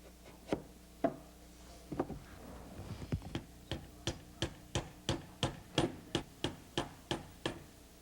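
Small finishing nails are hammered into a wooden towel rack being glued and assembled, a steady series of sharp, close taps that speed into an even rhythm of about a dozen strikes.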